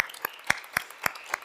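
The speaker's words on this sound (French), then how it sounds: "on peut les applaudir" A few sparse, sharp hand claps from a small gathered audience, about six distinct claps at an uneven rhythm, close by and fairly quiet, with no talking.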